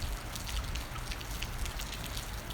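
Rain falls outdoors as a steady, soft hiss of drops on surfaces, fairly faint and even throughout, with no voices.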